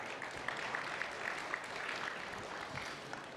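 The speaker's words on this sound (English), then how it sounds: "Let's welcome them again with another warm round of applause" Conference audience at Hong Kong Fintech Week gives a warm round of applause, soft and somewhat distant, a steady wash of clapping for a few seconds.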